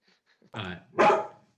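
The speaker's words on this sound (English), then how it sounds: "my dog has very specific opinions on this" A dog barks twice, close and loud, the second bark stronger than the first, cutting through an otherwise quiet background during a panel discussion.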